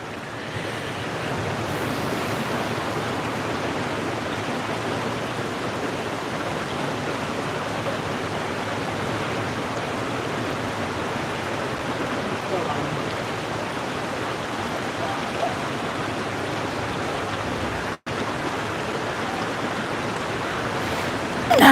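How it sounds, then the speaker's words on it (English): Resurrection River flows loudly nearby as a constant, even rush of water, a broad unbroken roar that holds steady throughout with no voices. "The river's pretty loud too."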